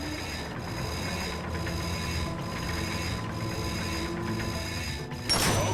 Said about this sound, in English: Now get on that bolt crank.